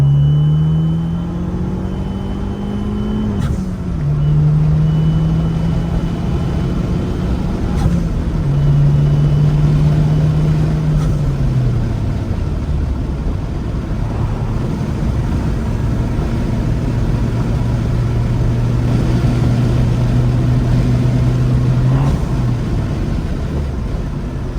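A Ford Puma ST engine drones loudly on the Cadwell Park race track, climbing in pitch through the revs and dropping sharply at each of several gear shifts, a continuous close rumble throughout.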